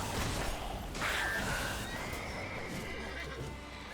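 Roach, the horse in The Witcher 3: Wild Hunt, lets out a loud, close whinny that rises and trails off over rumbling game ambience, with a few faint hoof clops.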